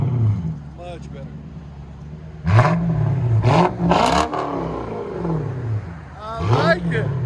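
A 1997 Lexus SC 400 with a 4.0L V8 and dual straight-pipe exhaust revs close by in three sharp, loud blips rising over a burbling idle, with people talking between revs.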